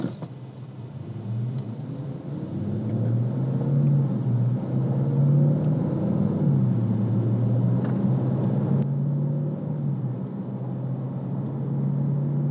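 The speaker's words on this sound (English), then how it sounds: "We're gonna get up to about 45 miles an hour, and I'm gonna hit the brakes pretty good." A 2015 Bentley Continental GT3-R accelerates up to around 45 mph, its engine rising in a steady, loud rumbling tone heard from inside the car, then settling as speed holds.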